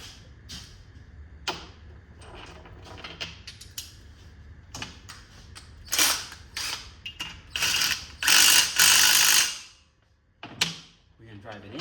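A ratchet drives a bolt into a GMC Acadia 3.6L engine during a head gasket replacement, with rapid close clicking bursts that grow louder and denser, separated by short pauses and a bit of handling noise.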